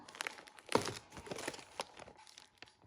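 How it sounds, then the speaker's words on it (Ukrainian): An individual plastic packaging bag holding men's Jack & Jones cotton boxer briefs crinkles and crackles in close, irregular bursts, with one sharper rustle near the start and no talking. "XL по одній штуці в індивідуальній упаковочці. Ось такий пакетик."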